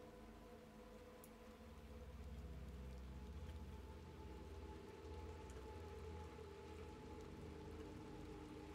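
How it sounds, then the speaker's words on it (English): Heavy rain falls in the video game Little Nightmares II, a steady, dense hiss that holds throughout over a low, continuous droning hum, with no one speaking. "That's a lot of rain."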